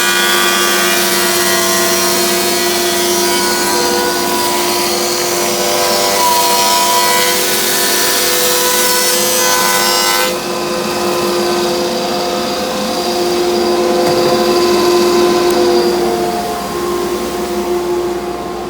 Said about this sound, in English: now I'm just planing it down here out in the shop